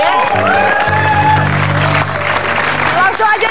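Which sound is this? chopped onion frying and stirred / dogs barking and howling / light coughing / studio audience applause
studio audience applause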